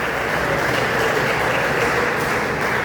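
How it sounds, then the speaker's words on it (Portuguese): A church congregation claps joyfully during worship, a loud, continuous wash of many hands with no break and no clear voices. "As palmas bem alegres, exalta o nome do Senhor."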